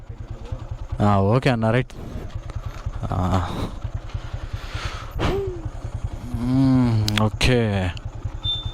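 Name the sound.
motorcycle engine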